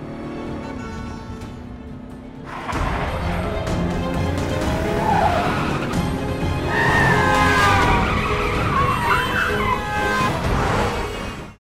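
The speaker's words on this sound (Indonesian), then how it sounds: "mobil yang mereka tumpangi pergi ke arah lain dan melaju dengan kecepatan yang sangat tinggi" A car roars off at very high speed with loud, sustained engine noise and squealing tires, starting abruptly after a quieter lead-in and continuing until a sudden cut.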